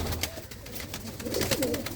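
Pigeons kept by a fancier of high-flying breeds coo softly nearby, low throaty murmurs rising toward the end amid faint rustling background noise.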